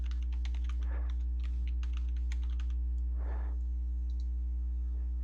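Password being typed on a computer keyboard during an encryption software demonstration, a quick run of light key clicks in bursts, close and fairly faint over steady low electrical hum.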